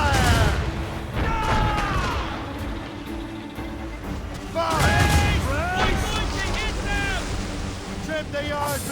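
Ship cannons firing in a naval battle in the video game Assassin's Creed Rogue, heard as heavy booming blasts over crashing waves and wind, with shouted crew commands and voices throughout.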